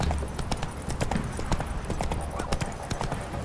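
Roach the horse trots in The Witcher 3, sharp evenly spaced hoofbeats ringing out loud and close in a brisk steady rhythm with a low ambient rumble beneath.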